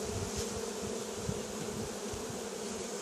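A close, constant hum of many honey bees at a hive fills the air, an unbroken buzzing swarm with a few faint knocks underneath.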